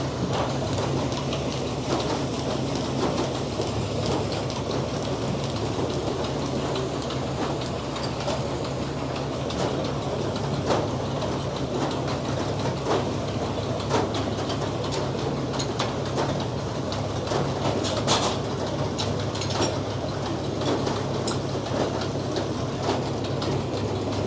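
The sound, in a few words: Frick sawmill sawing a big poplar log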